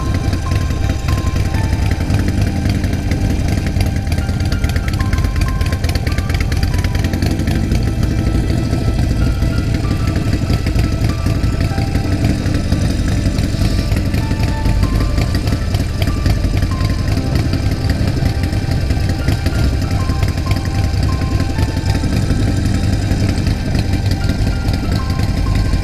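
A Harley-Davidson motorcycle engine rumbles steadily and loudly at riding speed, a continuous low drone mixed with wind for the whole stretch and no talk over it.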